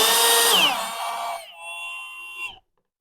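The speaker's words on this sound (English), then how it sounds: "To remove a fastener, simply toggle the drill to the anti-clockwise or counterclockwise position and follow the same procedure." A cordless drill/driver runs in reverse, backing out a fastener with a loud whirring burst that eases into a steadier, lighter motor whine before stopping abruptly.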